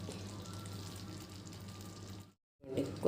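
Moong dal halwa with cardamom powder bubbling as it cooks in a pan, giving a steady close bubbling hiss that drops out briefly near the end before resuming.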